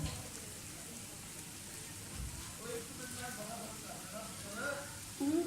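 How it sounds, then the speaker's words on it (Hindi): Besan and egg halwa roasts in ghee in a pan, giving a soft, continuous sizzle with a few louder spatters, while a voice talks over it. "इसको भूनते जाएं, इतना ज़्यादा भूनना है कि घी अपना आप छोड़ता जाए"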